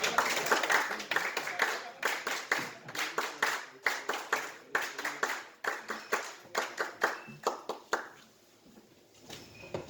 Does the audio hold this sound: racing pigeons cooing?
no